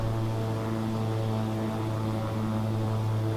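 A propeller aircraft engine drones in a flight simulator game, giving a steady, loud, continuous hum with strong pulsing tones that stays unchanged throughout, with no talk.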